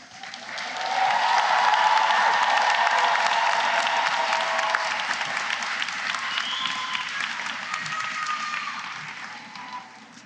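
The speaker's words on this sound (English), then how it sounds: "biggest round of applause." A large commencement ceremony crowd bursts into loud applause with cheers and whistles, swelling quickly, holding for several seconds, then gradually fading out over about ten seconds.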